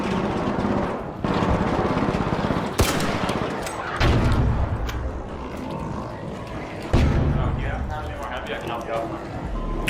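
Video game gunfire rattles in repeated bursts with sharp loud shots and explosive hits over a busy game soundscape, while a person talks over it.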